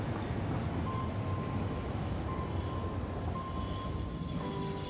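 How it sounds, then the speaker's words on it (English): A train in the factory-building game Satisfactory pulls into a station, a steady rumbling roll with faint high whines and a squeal, continuous and close with no voices. "Alright, we're gonna pull our train into the station."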